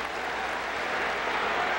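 A college basketball arena crowd at Oklahoma reacts to a referee's call, a dense, loud, sustained roar of voices and noise that fills the space without a break.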